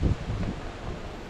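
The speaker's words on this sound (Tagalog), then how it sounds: "grabe ang lakas ng hangin, no? Kala mo babagyo eh." Strong, cold wind gusts against the microphone outdoors in rainy weather, a brief rough rumbling rush that is loudest at the start and then settles into a steady blowing hiss.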